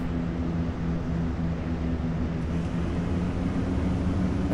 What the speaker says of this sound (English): I am idling this plane as much as I can